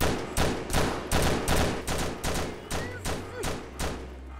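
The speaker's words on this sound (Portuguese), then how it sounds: "Eles estão atirando no refém, mano." Gunfire in the robbery game Stick Em Up during a store holdup with a hostage: about nine loud, evenly spaced shots ring out roughly every half second, each with a short thumping tail.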